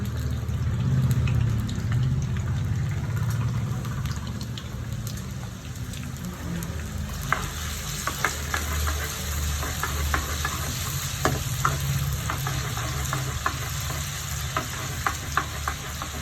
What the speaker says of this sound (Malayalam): എണ്ണ ഒന്ന് ചൂടായിട്ട് ഇഞ്ചി ഇട്ട് കൊടുക്കാം അതൊന്ന് മൂക്കണം